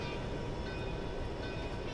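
A freight train rolls past in the Railworks train simulator on Marias Pass, with an intermodal consist giving a steady, loud, continuous rumble and rail noise throughout, no voices.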